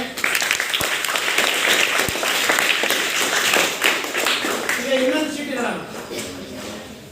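A crowd claps in steady, dense applause for several seconds, fading toward the end as a voice begins to speak.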